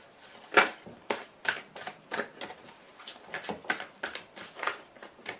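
Tarot cards shuffled and drawn by hand: a close series of quick papery riffles and slaps in uneven bursts, each card flick short and crisp against a quiet background with no talk.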